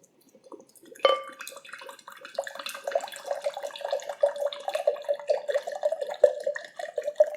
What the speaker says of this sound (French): On va ajouter nos 15 centilitres de vinaigre.